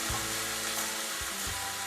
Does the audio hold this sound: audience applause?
no